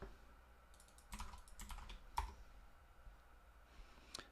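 Someone types a command on a computer keyboard, producing a quick burst of close, crisp key clicks, a firm keystroke like Enter, then scattered lighter taps in a quiet room.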